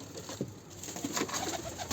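Soft cooing of newly bought pigeons close by, just let out of a box, low burbling calls repeating over a rustling background.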